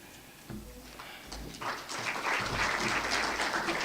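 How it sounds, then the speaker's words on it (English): An audience at a gala dinner claps, starting sparse and quiet, then swelling into steady, fairly loud applause by the end of the short burst, with no one talking. "Just clap hands."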